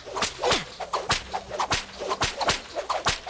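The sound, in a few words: Whip Whap whip attack sound from Skylanders Imaginators video game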